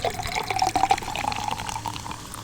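Club soda poured into a Cubano cocktail, a short, close fizzing splash of liquid running steadily for a couple of seconds with no talk.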